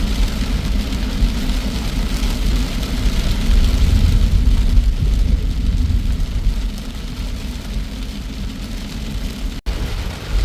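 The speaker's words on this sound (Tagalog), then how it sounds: "Lakas ang ulan mga kabiyar." Heavy rain in Dubai near the sea, a dense continuous roar and hiss of downpour with low rumbling, steady and loud, easing slightly toward the end, no voices.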